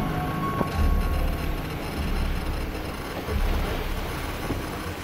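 A thunderstorm squall's strong wind roars across Chesapeake Bay aboard an anchored sailboat, a loud continuous low rumble with gusts swelling and buffeting the microphone.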